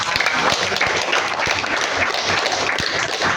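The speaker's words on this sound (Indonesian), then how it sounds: "kasih tepuk tangan buat Kalibah." Students in a classroom applaud a classmate, a few seconds of quick overlapping hand claps with sharp individual slaps standing out, fairly close and steady.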